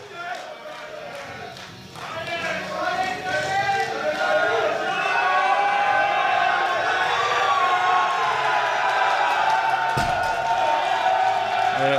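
A large crowd at a powerlifting meet cheers and roars loudly and continuously, swelling after a brief dip and holding steady as applause and shouts blend into a dense wash of noise.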